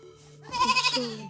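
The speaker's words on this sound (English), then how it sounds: "Just take your goat and go in peace, Biko." A goat bleats once in a Nigerian village, a loud wavering cry of about a second that rises and trembles, heard close with no other voices.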